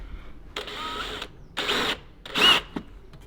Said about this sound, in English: we're going to pilot the thing out at 5mm